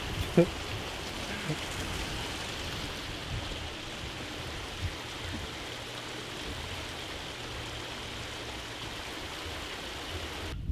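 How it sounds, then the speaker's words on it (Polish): A steady, rushing roar of an Australian waterfall near Perth fills the scene continuously, broad and even, with a faint thump or two near the start. "Słynny australijski wodospad."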